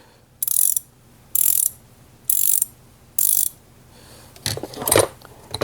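Four evenly spaced bursts of rapid ratchet clicking, close and crisp, followed by a rougher, less regular clicking burst.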